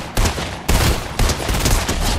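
Bursts of sniper rifle gunfire in Fortnite, loud and close, with three sharp onsets followed by sustained rattling fire over about two seconds.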